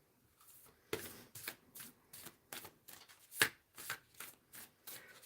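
An oracle card deck is shuffled in a quick run of crisp riffling bursts, about a dozen short papery swishes and taps at close range against a quiet background, with no talking.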